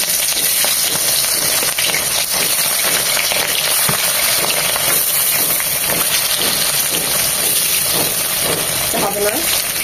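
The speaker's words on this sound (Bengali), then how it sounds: "তেলটা গরম হয়ে এসেছে, এই তেলে আমরা চিকেনগুলো ভেজে নেব।" Chicken pieces frying in hot soybean oil in a wok for Kashmiri chicken masala, a loud, dense, continuous sizzle and hiss held close for the whole stretch, with no talking.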